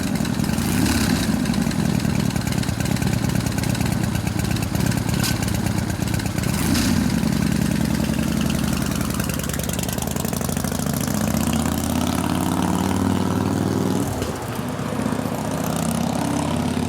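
A Harley shovelhead stroker big-bore engine in a new FL bike build runs steadily and loud for the whole stretch, its deep throbbing idle close by with a slight rev dip near the end and no voices.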